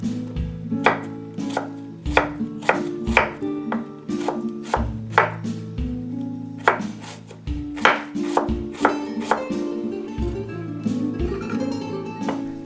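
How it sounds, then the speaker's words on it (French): A knife finely slicing an onion on a cutting board: steady, rhythmic close-up chopping taps, some in quick clusters, over continuous background music. "J'émince finement l'oignon."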